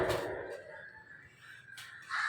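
A crow caws a few times nearby, harsh calls at the start and end with a quieter stretch between.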